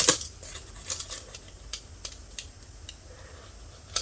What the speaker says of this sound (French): Je vais essayer de couper juste là.